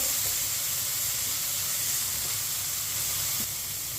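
Semolina roasting in ghee over a low flame gives a steady, soft, faint sizzle and hiss that runs unbroken throughout, with no one speaking.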